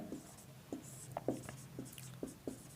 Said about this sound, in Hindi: मैं लिख देता हूँ यहाँ पर